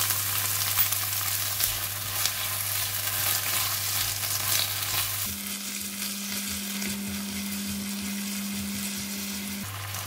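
Chili, vegetables and hard kailan stems stir-fried in a hot pan give a steady, loud frying sizzle throughout, with a constant low hum underneath, and no voices.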